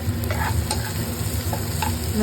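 Green chilies and ginger frying in a pan while being stirred, a steady close sizzle broken by a few light scraping strokes, with no talking.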